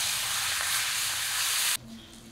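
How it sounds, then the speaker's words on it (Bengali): Small pieces of boal fish frying in hot oil, a loud, dense, bright sizzle that cuts off abruptly near the end, leaving quieter room noise. "এখন ছোট সাইজের 3 পিস ভাজবো।"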